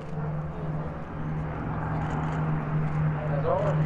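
The B-29 Superfortress bomber FIFI, a four-engine propeller aircraft, arriving at EAA AirVenture in Oshkosh, Wisconsin, gives a steady, continuous engine drone with a low hum throughout, while a voice talks over it.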